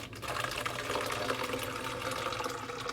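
Salt water poured from one container into another, a steady, continuous rush of liquid that lasts throughout at an even level, with no talking.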